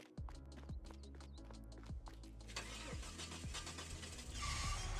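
A truck engine in Farming Simulator 22: clattering ignition clicks, then the engine catches and settles into a rough, loud idle that swells toward the end.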